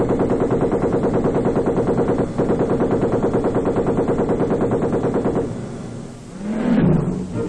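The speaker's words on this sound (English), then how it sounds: "Twin-mounted machine guns provide a devastating barrage." Twin-mounted machine guns on a tank fire a sustained barrage in Vietnam, a rapid, evenly spaced stream of loud bursts for several seconds before it stops and a single heavier boom follows.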